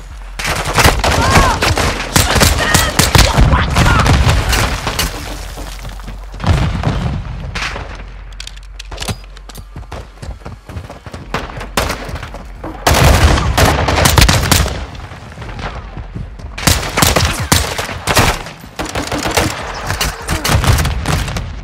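Rapid bursts of video game gunfire and heavy booms from a grenade launcher during a rooftop and mountainside compound assault, loud and sustained in several waves with brief lulls between.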